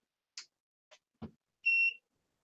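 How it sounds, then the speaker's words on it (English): Artillery SW-X1 Sidewinder 3D printer giving a single short, clear electronic power-on beep, preceded by a few faint clicks from switching it on, in an otherwise quiet room. "Hear a beep."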